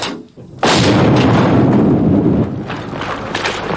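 Croat artillery firing in the Bosnian war, 1995: a sudden loud booming blast after a short quiet start, followed by a long rumbling roar that slowly fades.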